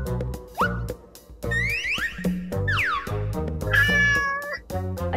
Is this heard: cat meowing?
yes